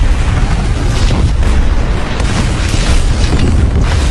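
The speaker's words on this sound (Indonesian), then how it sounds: "Istana pun meledak dan hancur." A palace blows up in a large action-film explosion, a loud, continuous roaring blast with dense rumbling debris that fills the whole stretch without letup.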